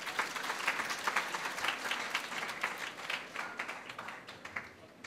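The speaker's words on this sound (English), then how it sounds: "Can you clap for yourself for demonstrating that?" Audience of students in Kenya clapping for themselves, a steady, moderately distant wash of applause lasting the whole stretch and slowly tapering near the end.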